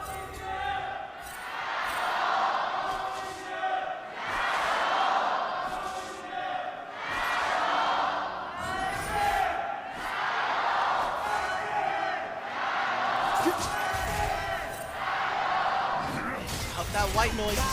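A large esports crowd at an LPL match in Xi'an, Invictus Gaming versus Weibo Gaming, roars and screams in repeated surging waves, loud and sustained, mixed with amplified voices and game sounds.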